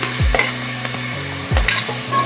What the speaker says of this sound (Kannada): ಈಗ ಆಲೂಗಡ್ಡೆ ಹಾಕ್ತಾ ಇದ್ದೀನಿ